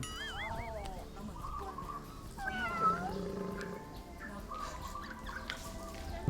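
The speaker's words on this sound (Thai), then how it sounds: "แมวแมว" A cat meows several times nearby, rising and falling calls over a murmur of background voices and outdoor noise.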